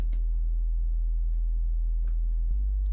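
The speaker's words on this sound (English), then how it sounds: "The next is just like a sub, so super deep" A super deep sub bass in a dark pop type beat holds as a steady low tone throughout, with faint ticking percussion above it and a small shift near the end.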